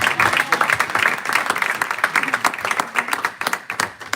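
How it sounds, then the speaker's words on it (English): Audience applause at a book launch, dense steady clapping from a crowd that swells and holds for several seconds, close and fairly loud. "Please give a round of applause."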